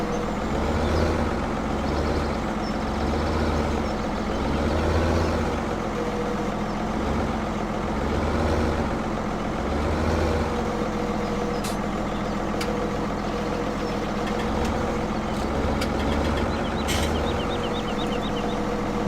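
A forklift in Farming Simulator 2017 drives with a steady, droning diesel engine whose low rumble swells in repeated pulses, with a few faint clicks and metallic ticks over it.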